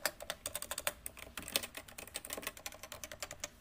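Rapid, quiet typing on a Cooler Master Novatouch TKL keyboard with Topre switches, a dense run of soft, muted keystrokes alone without speech.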